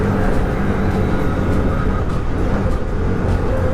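A Can-Am Maverick R side-by-side rips along in two-wheel drive, its engine a steady, loud, close roar with broadband rumble and no let-up.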